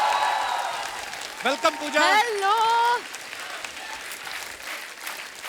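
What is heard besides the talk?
audience applause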